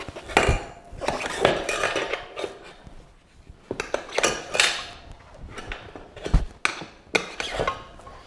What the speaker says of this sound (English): I got the spoon under the sprocket here, and I just work my way around just like I did the other side.